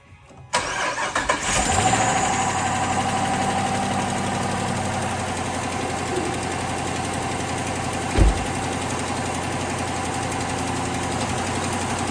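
A 2012 Jeep Grand Cherokee Hemi engine cranks and fires up, then settles into a steady idle with a faint exhaust leak, close and clear, with a brief thump partway through.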